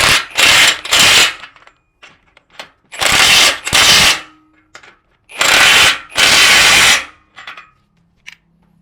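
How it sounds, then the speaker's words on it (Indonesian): An APR AP78PROMAX+ cordless impact wrench hammers bolts tight in several loud, close bursts of rapid rattling. Short pauses with small clicks and handling noises fall between the bursts. "saya kencangkan dulu pakai Impactline supaya nggak terlalu lama"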